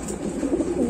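Pigeons kept in cages at a pigeon house coo in low, rolling murmurs, close and continuous for a brief moment.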